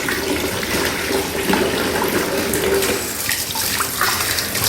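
Tap water runs steadily into a sink while mangoes are washed, a continuous close splashing stream with faint clinks of fruit and handling.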